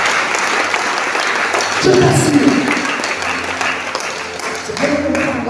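Applause and acclamation from a congregation at a church service, a dense wash of clapping running throughout, with a voice speaking briefly over it.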